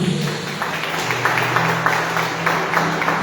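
A church congregation claps in a steady rhythm during a worship service, a brisk repeated patter of many hands over a sustained musical drone.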